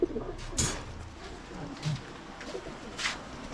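Pigeons coo softly in a box of newly bought birds, including tagged local pigeons and imported Archangel blue bars, with several low repeated coos and a few sharp flutters or scuffs nearby.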